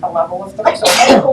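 One loud, close sneeze bursts out in a housing authority meeting room, cutting in just after a person finishes speaking.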